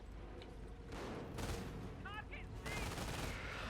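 Machine gun fire from three MG teams in Company of Heroes on the Duclair map, several bursts of rapid gunfire with booms under a commentator's voice and brief whistling effects.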